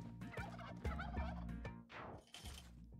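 Turkey gobbling in the platform game Spelunky 2, several rapid warbling gobble bursts in quick succession, close and clear with no talking.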